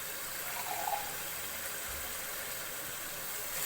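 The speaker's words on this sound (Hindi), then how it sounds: "इसमें आप पानी डालेंगे।" Water poured into a cooking pot while making chana pulao, a steady close hiss and splash of liquid running continuously with no talk.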